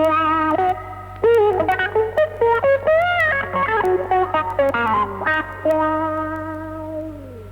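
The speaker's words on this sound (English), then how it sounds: "And then coupled with a wah-wah, it might sound like this." Through a wah-wah pedal, an electric guitar plays quick phrases whose tone sweeps and quacks from note to note, then settles into a held note that slowly fades.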